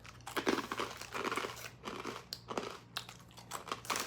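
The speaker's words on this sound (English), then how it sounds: "It's like eating a bag of fucking croutons." Close crunching and chewing of small pieces of toasted bread, a tomato-herb Russian rusk snack, with repeated brittle bites and grinding mastication continuing throughout, no talking.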